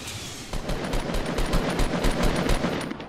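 Rapid gunfire in Fortnite, a steady burst of sharp shots at a quick even rhythm, fairly loud and close, running continuously for a few seconds with no talk over it.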